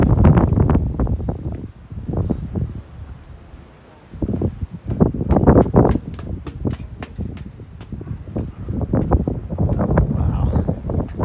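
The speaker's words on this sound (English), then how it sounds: "Oh, wind." Gusty wind buffets the microphone on an outdoor trail, rising and falling in loud, rough surges with brief lulls between.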